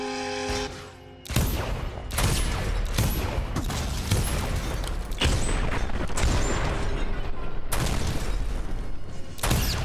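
Gunfire in the video game Dishonored during whale oil target practice, loud rapid bursts of shots and booms following one another almost without pause after a brief quieter opening.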